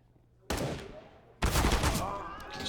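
Two sharp gunshot bursts in a professional Counter-Strike match on the Cache map at an IEM Katowice tournament, the first at half a second and a louder, longer second volley about a second later, up close.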